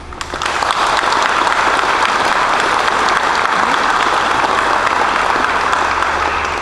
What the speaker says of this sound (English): So I want to give them a round of applause, please.